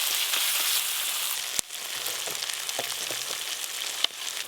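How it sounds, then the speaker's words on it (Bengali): Chopped tomatoes fry and sizzle in hot oil with red and green chili paste, turmeric and salt for a fish oil curry, with a steady crackle and scattered soft scrapes of stirring close by. "এইভাবে নাড়তে নাড়তে টমেটোগুলো ভালো করে গলিয়ে দেব।"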